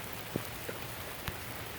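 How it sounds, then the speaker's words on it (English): Steady rain falls on a primitive campsite in Louisiana, a soft, even hiss with a few louder drops tapping nearby. "if it does stop raining"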